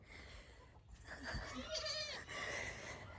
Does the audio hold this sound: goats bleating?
yes